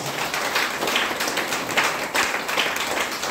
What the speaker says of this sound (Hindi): तो डीएक्शन के लिए जोरदार ताली बजाइए।